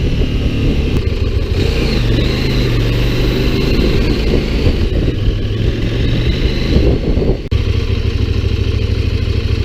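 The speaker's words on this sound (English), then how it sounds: "It's really nice just to get up a little bit of speed and then just kick it down through the gears." A CF Moto MT800 Explore motorcycle engine downshifts through the gears, a loud, close, continuous rumble with shifting revs, briefly dropping out near the end before resuming.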